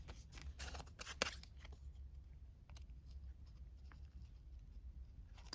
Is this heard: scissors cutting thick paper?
yes